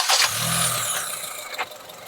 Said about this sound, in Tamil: இன்ஜின் ஆன் பண்ணுவோம் நம்ம. ஆன் பண்ணுங்க தலைவர்.